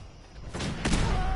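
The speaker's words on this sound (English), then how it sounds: "A grenade bounced off of the railing." A frag grenade bounces off a railing in a PS4 video game, giving two quick, muffled metallic thumps close together over low background game noise.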